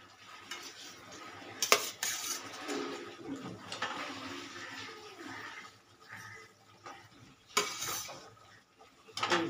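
Pieces of eggplant being stirred and turned in a pan for a spicy eggplant dish, with scattered utensil scrapes and clinks against the pan over a soft background sizzle and a couple of sharper knocks.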